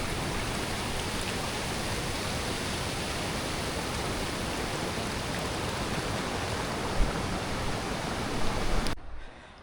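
Kolapathana waterfall near Mandaram Nuwara rushes steadily with a dense, loud, unbroken roar that holds even for several seconds before briefly shifting near the end.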